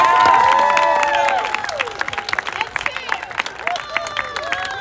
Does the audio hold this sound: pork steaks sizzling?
no